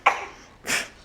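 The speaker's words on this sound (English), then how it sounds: "Coughing." A 12-week-old baby girl coughs twice: a sharp, close cough, then a pause and a second, breathier cough, each brief and fairly loud in an otherwise quiet room.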